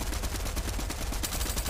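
Rapid bursts of automatic gunfire from the video game Fortnite, a dense run of sharp repeated shots crackling close and loud without pause.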